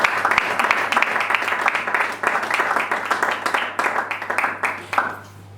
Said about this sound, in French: Est-ce que tu peux encore acclamer pour l'homme?